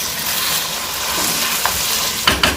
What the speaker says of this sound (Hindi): लहसुन और अदरक का पेस्ट शामिल करेंगे और इसकी अच्छे तरीके से बुनाई करेंगे ताकि लहसुन और अदरक अच्छे तरीके से कुक हो जाए